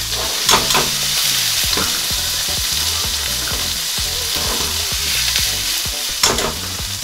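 Sardine oil spaghetti with parsley is stir-fried over high heat, a loud close sizzle running throughout with repeated scraping and tossing of the pan.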